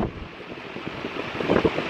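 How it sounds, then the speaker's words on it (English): Exhaust fan running in a shop area, a breezy, hollow whoosh of moving air with faint knocks and rustles, growing a little louder toward the end. "We have our exhaust fan that's running"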